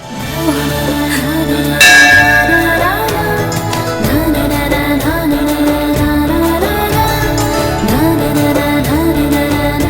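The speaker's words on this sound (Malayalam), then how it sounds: "ഇപ്പോഴും മണിയടിച്ചില്ലേ?" Bells ring loudly and steadily for the whole stretch, dense overlapping metallic tones with a rhythmic pulse and no speech.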